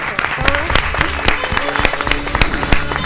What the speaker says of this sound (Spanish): Un aplauso, profesor.